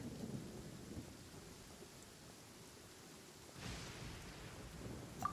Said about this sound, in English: Oh, it's pouring rain and lightning now.